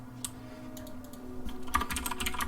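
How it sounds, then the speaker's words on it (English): Rapid clacking keystrokes on a mechanical keyboard, sparse at first and then a dense, fast burst of typing, close and fairly loud. "It's a mechanical keyboard, so it's a little bit loud."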